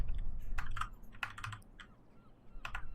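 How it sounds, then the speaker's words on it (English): Typing on a computer keyboard, with quick irregular clusters of close key clicks over a low background hum and no talk. "Typing in too much."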